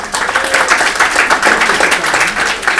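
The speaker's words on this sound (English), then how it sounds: "Please give Harriet a round of applause." Audience at a business talk on referrals gives a loud, dense round of applause, close and continuous for a few seconds with no speech over it.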